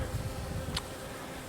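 Honeybees buzz steadily around a hive and nuc during an outdoor external inspection, a continuous close drone with a brief sharper pass partway through.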